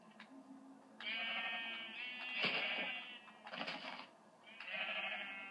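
Sheep in the video game Minecraft bleat several times, drawn-out wavering cries coming in separate bursts over a quiet background.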